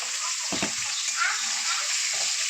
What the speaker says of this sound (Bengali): মাছগুলো ভাজা হয়ে গেছে, বাকি মাছগুলো। এখন এই মাছগুলো তুলে নিচ্ছি।